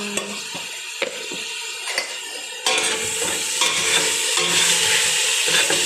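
Salona curry is stirred in a pan after cinnamon powder is added. A soft sizzle grows noticeably louder partway through, and a spoon knocks and scrapes against the pan now and then, close and with no speech.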